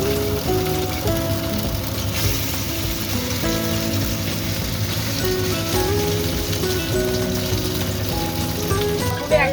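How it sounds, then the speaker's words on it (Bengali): Momo dumplings, lifted one at a time from steaming, pan-frying in a little butter and oil, a dense steady sizzle and crackle that stays close and loud throughout with no voices. "আমি জাস্ট ফ্রাই হবে তো তাই একটু ভেজে নেব"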